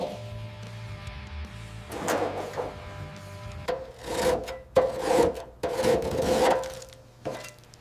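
Rust and paint are stripped from the body of a 1959 Cadillac Eldorado Biarritz, with close scraping and rasping strokes in irregular bursts that grow louder and denser toward the end, without talk.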